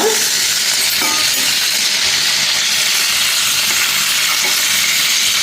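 Bangude mackerel coated in green masala fries on a low flame, a steady, close, continuous sizzle and crackle of hot oil throughout with nobody speaking.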